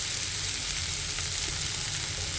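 Tomatoes and onions sauté in a pan for puffed rice upma, giving off a continuous, dense sizzle at close range with no talking.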